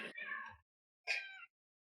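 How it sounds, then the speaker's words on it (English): Two separate meows from a small cat, each lasting about half a second, sound from the background with a pause between them and no talking. "So, you hear that in the background, that was a small cat."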